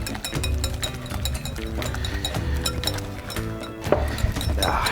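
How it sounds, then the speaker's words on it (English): A whisk clinks rapidly against a bowl while oil is blended into a Bovril sweet and sour sosatie marinade, a steady close tapping over background music. "we're gonna whisk this together just to combine all of these flavors"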